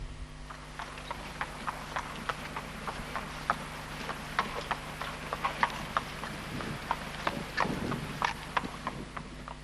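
A thoroughbred cross Hanoverian gelding walks on firm ground, its hooves striking in a steady clip-clop rhythm. The footfalls sound close and distinct over a low, constant background hum.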